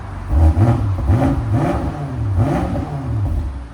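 A 2018 BMW M5 Competition with a 4.4-litre twin-turbo V8 and a Dinan cat-back exhaust revs repeatedly, its deep exhaust note rising and falling in several close, loud blips.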